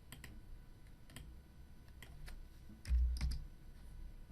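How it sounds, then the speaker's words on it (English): Computer keyboard keys and clicks in sparse, soft taps spread across a few seconds, with one low thump, close and quiet over faint room noise. "I can achieve the same thing by clicking and entering the radius and sides in the dialog box."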